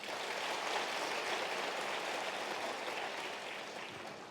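Audience at a housing cooperative members' meeting applauding volunteer committee members, a faint, even wash of clapping that holds steady, then slowly thins toward the end.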